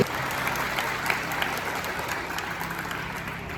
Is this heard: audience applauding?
yes